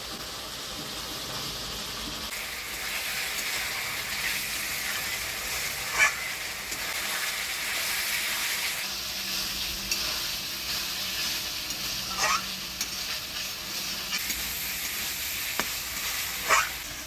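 Fried potatoes are stirred into a cooking spice masala with a little water, producing a long, steady sizzle with occasional scraping strokes of a spatula against the pan.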